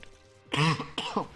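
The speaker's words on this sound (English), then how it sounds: "Love this nasty cough." A man gives two harsh, throaty coughs close to the microphone, one after the other, sounding rough and phlegmy with a brief pause between them.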